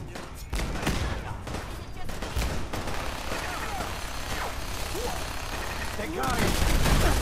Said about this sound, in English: Oh no, why is that shooting me?